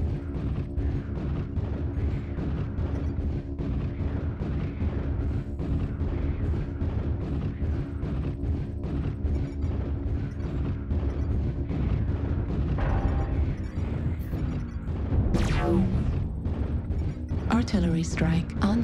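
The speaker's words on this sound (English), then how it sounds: "Artillery strike online." A dense, continuous rumble of artillery and gunfire fills a video game battle, with heavy booms throughout and some brighter bursts near the end, while voices speak over the din.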